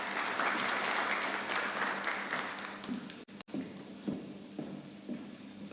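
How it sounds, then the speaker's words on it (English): Audience applause at a CEO business forum, a dense steady clapping from a large crowd for about three seconds, briefly cutting out, then thinning into scattered claps and taps. "Another round of applause for Barbara."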